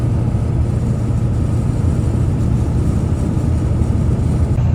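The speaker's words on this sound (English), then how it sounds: "obviously it's a turbo diesel, you could clearly hear that" An OBS Ford 7.3 Powerstroke turbo diesel truck towing a trailer drones along in a steady, heavy low rumble heard from inside the cab, constant and unbroken with no talking.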